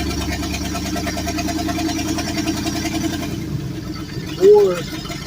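A car engine pulling steadily in third gear, its close droning hum continuing, then easing with a brief rise near the end.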